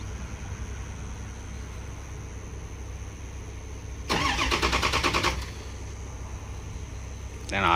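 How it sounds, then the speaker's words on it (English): Ford F-250 6.0L Powerstroke diesel truck engine cranking over during a push-start attempt, a loud, rough, buzzing burst lasting about a second after a stretch of low background rumble, then dropping back, with a brief rise at the end. "I'm going to attempt to do the push to start."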